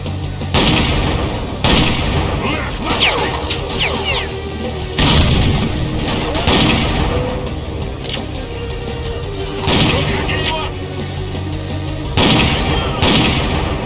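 Grenade blasts and bursts of gunfire from the S.T.A.L.K.E.R.: Clear Sky shooter, with loud broadband booms recurring every couple of seconds over a dense battle bed of shots.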